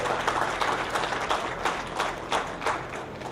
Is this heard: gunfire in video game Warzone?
no